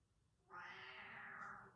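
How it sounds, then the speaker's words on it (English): A single drawn-out meow from a pet cat, close and fairly clear against a quiet room. "Oh, puss cat. He really wants to get to Dad."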